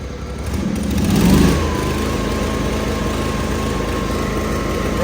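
Engine of a Toro Wheel Horse lawn tractor with power steering runs steadily and close, a loud continuous small-engine drone with a brief swell early on, then an even, slightly misfiring hum throughout without speech.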